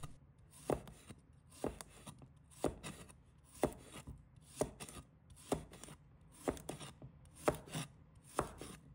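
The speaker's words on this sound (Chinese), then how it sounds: "再准备适量的青瓜，把它切成小块。" A knife chops cucumber into small pieces on a board, producing about a dozen crisp, close taps in a fairly regular rhythm with short pauses between.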